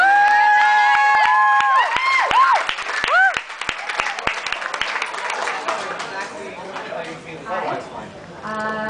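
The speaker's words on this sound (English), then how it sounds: "Big round of applause" Wedding guests applaud and cheer for a bride's toast, a sustained burst of clapping and crowd noise with some voices and whistles mixed in, carrying through to the end.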